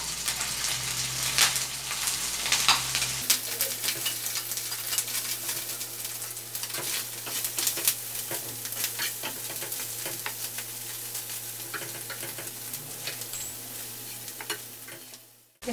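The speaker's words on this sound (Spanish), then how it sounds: "en el mismo aceite que nos quedó de las papas, estaremos también sellando la carne" Beef sears in oil left over from frying potatoes, crackling with a loud, dense sizzle while a spoon stirs it now and then, close up and continuous until the sound drops away at the very end.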